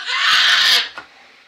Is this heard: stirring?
no